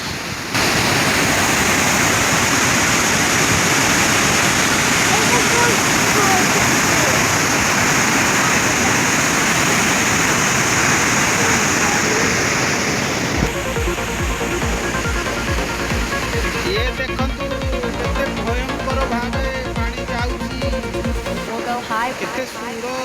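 Water released through a gate of the Rengali dam roars in a loud, dense, continuous rush close by, later thinning as the scene shifts and a low pulsing rumble takes over.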